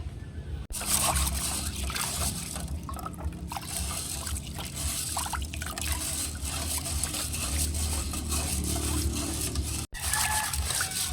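Mung beans are washed in water before boiling, a steady close sloshing and trickling rinse that runs continuously at an even level, with one brief dropout near the end.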